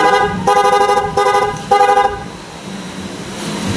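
Repeated honks from a PIA horn fitted to a Honda Click V3 scooter, three loud, bright, brassy blasts of under a second each, close by, followed by low rumbling background noise.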